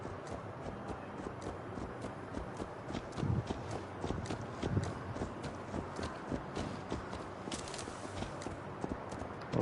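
Horse hooves clip-clop at a steady walking pace in Assassin's Creed Valhalla, moderately close and fairly quiet, layered over a busy ambient game background with no talk.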